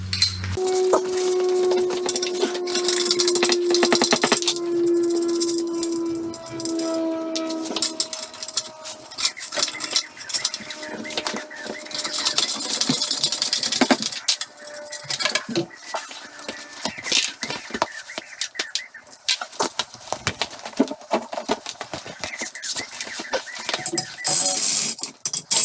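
Bolts being undone on the catalytic converter of a classic Mini in a workshop, with repeated metallic clinks, ratcheting and tool clatter close by.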